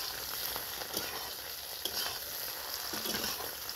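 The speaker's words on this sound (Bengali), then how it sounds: "আমি ডিমগুলোকে ঢেলে দিলাম, ঢেলে এগুলো খুব হালকাভাবে ভেজে নেব।" Beaten eggs frying lightly in a pan give off a steady, even sizzle with faint stirring scrapes. The sound is close and continuous, and no one speaks.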